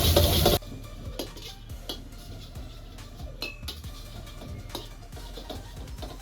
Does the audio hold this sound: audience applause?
no